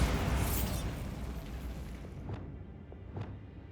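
A Bombarda exploding spell in the Hogwarts Legacy video game bursts with a loud, broad boom that slowly fades, followed by two sharp, fainter pops near the end.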